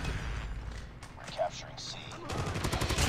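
Death Machine heavy gun fire in a multiplayer shooter, a rapid fusillade of shots ramping up loud toward the end, with a player talking over it.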